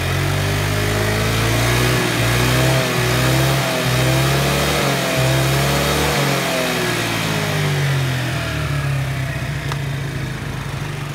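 A motorbike engine revs loudly and close under repeated throttle, its drone rising and falling in regular pulses and then settling near the end, with no talking.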